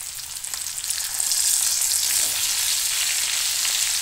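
Tomatoes hitting a hot pan with cumin powder, a loud steady sizzle and frying hiss that swells after the first second and holds, with no talking.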